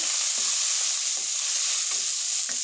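Pointed gourd (potol) frying with turmeric, spices and salt, a loud steady sizzle close up with a rhythmic series of soft stirring scrapes about every half second, no voices.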